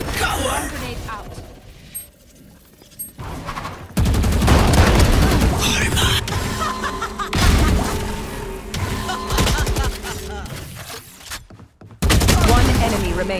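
Swarm grenades detonating in Valorant, a tactical shooter game, bursting in a rapid crackling fusillade of small blasts mixed with gunfire, loud and close, alongside brief in-game announcer voice lines.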